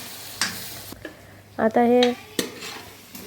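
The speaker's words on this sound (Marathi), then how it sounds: "याला व्यवस्थित परतून घेऊया." Pav bhaji vegetables being stirred and sautéed in a pan, with a few sharp spoon scrapes and clinks against the metal and a soft sizzle underneath, while someone speaks briefly.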